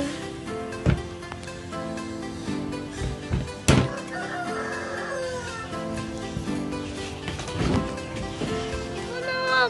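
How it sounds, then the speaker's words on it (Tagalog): Backyard chickens clucking and crowing against a busy outdoor mix of thuds and background noise, with voices in Filipino talking at times across the whole stretch. "Tatlong manok yung nakawala."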